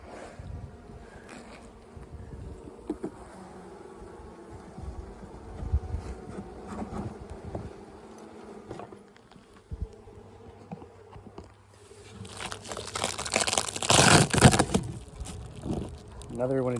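Honey bees hum around an open hive during a colony and queen assessment, a low steady buzz with scattered handling clatter, rising to a louder, close burst of noise toward the end.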